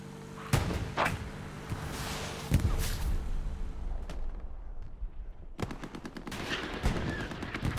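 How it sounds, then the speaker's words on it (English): Tank shells in a Tobruk battle game crack and thud as sharp, separate impacts, with a closing cluster of rapid bangs against steady rumbling background noise. "And it's another bounce. It's a ricochet, a miss, a non-pen."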